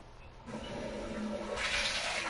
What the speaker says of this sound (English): Yeah, water from a toilet.